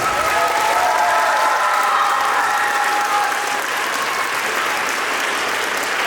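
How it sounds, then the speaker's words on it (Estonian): Big audience applause for dancers at a school dance competition, sustained dense clapping filling the hall for six seconds, with a faint tonal murmur early on and no speech. "Teeme suure aplausi meie imeliste tantsijatele"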